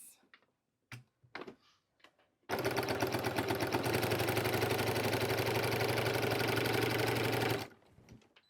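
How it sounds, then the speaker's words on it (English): Close by, a sewing machine stitches bag pieces together with a half-inch seam allowance. It runs in one steady, rapid whirring burst of about five seconds, preceded by a few soft handling clicks and taps. "Sew it with 1/2 inch seam allowance."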